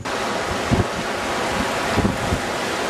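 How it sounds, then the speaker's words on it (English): Surf washing in steadily beside a river fishing spot, a constant rushing wash mixed with heavy wind buffeting the microphone, with a couple of louder low thumps from waves breaking close by. "Big waves today."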